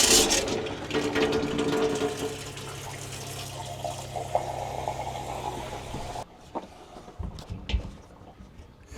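Lake water running and dripping through a filter makes a continuous trickle and splash at first, fading to lighter irregular drips later, close by with no talking.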